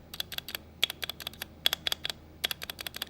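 Typing on a Redragon Shaco K641-BW mechanical keyboard, stock and unmodified: a steady run of crisp, close clicks in quick uneven bursts with brief pauses, and no voice over it.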